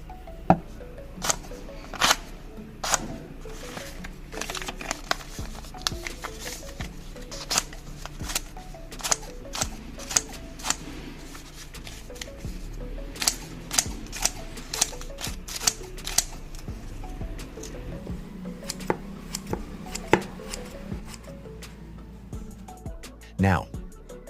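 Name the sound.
sharpened scissors cutting paper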